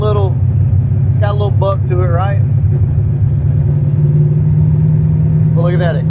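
A big-cam diesel truck with a manual transmission pulls away through first and second gear, a steady low engine rumble running throughout while someone talks over it.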